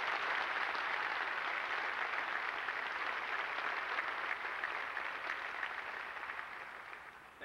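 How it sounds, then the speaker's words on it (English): An audience at a graduation ceremony applauds, a dense, steady wash of clapping that holds for several seconds and then thins slightly toward the end. "Please give these people a round of applause."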